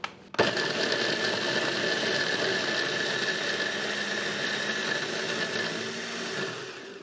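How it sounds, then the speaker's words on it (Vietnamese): An electric chopper grinds garlic: the motor kicks on abruptly and runs as a loud, steady whirring drone for several seconds, close up, with no talk. "Trong lúc này mình xay tỏi hoặc là mầm nhuyễn, nhưng mà đừng có giã nát."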